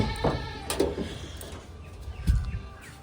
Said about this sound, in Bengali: ছাগলের বাচ্চা এখানে এসে যে সব ফুলের গাছ খেয়ে নেয়